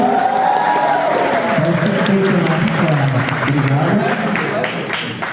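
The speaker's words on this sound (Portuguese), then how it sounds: "Palmas para o camarada Antônio." Audience applauding at the opening session of an international communist camp, a dense, steady wash of clapping from a large crowd that holds for several seconds before tapering slightly, with voices mixed in.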